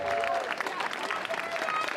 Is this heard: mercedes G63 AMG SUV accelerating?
no